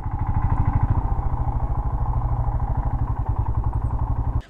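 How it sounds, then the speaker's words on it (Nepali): A motorcycle engine chugs close by at low speed, a rapid steady thumping exhaust pulse throughout as the bike rides up and is brought to a stop, cutting off abruptly at the end. "अब बाइकलाई एकचोटि यहाँनिर पार्किङ गरिदिनु पर्ला."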